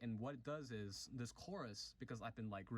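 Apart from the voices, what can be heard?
No everyday noise stands out behind the speech.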